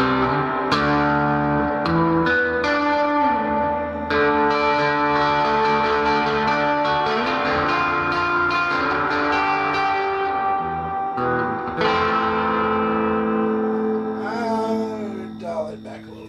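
Distorted 1963 Fender Jazzmaster electric guitar rings out through an Allen Encore amp, chords and sustained notes washed in reverb and echo, loud and alone.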